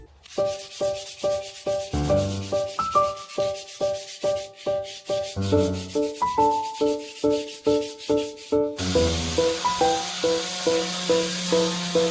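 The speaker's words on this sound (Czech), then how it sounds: "Takže teď budeme brousit." Hand sanding small wooden parts of a Thonet side table: repeated rhythmic rasping strokes, close and steady, about two per second, with a brighter, hissier stretch in the last few seconds and faint tones beneath.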